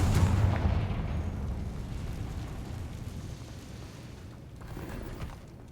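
A Confringo blast spell explodes in the Hogwarts Legacy video game inside a tomb, a loud boom at the start that fades into a long rumbling roar, with a smaller swell of blast noise near the end.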